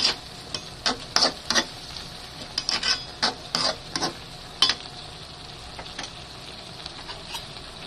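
Vegetables including cabbage frying in a pan, stirred with a utensil that scrapes and clinks in irregular bursts over a soft steady sizzle, no talking.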